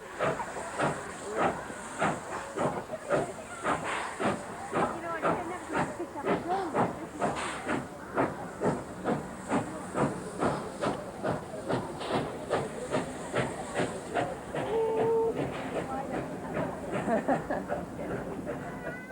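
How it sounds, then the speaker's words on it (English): American Baldwin-built steam locomotive 5910 steaming out of Moss Vale on a 1989 run toward Sydney, with rapid rhythmic exhaust chuffs, a steady hiss of steam and a brief whistle-like tone late on, sustained and moderately close. "The American Baldwin-built 5910 was the first to steam out of Moss Vale."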